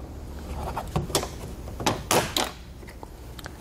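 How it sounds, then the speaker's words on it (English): Plastic push pins on a 2020 Honda car fender guard being pried out with a screwdriver, giving several sharp close pops and plastic snaps over low background rumble. "You might have to work your way around the push pins just to get it to pop out evenly."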